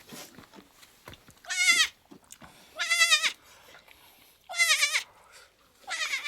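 A mother goat and her two kids, born about an hour earlier, bleat nearby: four loud wavering bleats at fairly even intervals, with soft rustling and clicks between them.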